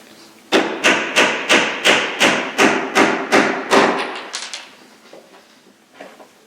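A batten is tacked down on a wooden rowing and sailing dinghy under construction: about eleven sharp, evenly spaced hammer taps on wood in a quick rhythm, close and loud, then a couple of softer knocks after a short pause.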